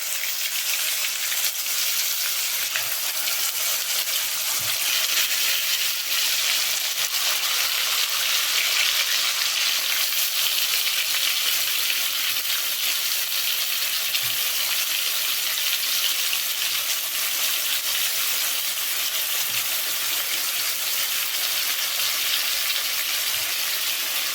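Ground eggplant sautéing in ghee in a pan over low heat, a steady hiss and sizzle that continues evenly with faint stirring ticks and no talking.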